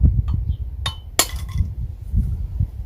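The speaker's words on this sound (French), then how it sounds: "on positionne le burin, le marteau et on y va." A hammer drives a steel chisel into a geode held under a foot, giving a few sharp metallic clinks and one louder crack amid low background rumble.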